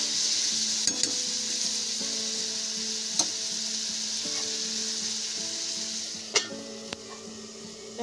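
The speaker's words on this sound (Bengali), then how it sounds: "এগুলোকে মিক্স করে নিচ্ছি। আমি ভালো করে নেড়ে নিচ্ছি।" A pumpkin and drumstick-leaf curry sizzling in a pan while being stirred, a continuous fry hiss broken by several sharp clinks and scrapes of the spoon against the pan.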